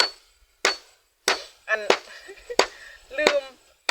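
Several sharp, hard chops of a machete biting into a rubber tree trunk, spaced about a second apart, close by, with faint background voices between strikes.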